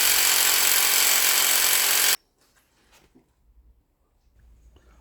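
A pneumatic impact wrench works on bolts of a Ford Fiesta MK7 in a loud, continuous rattling burst lasting about two seconds, then cuts off sharply into quiet workshop sounds with faint clinks.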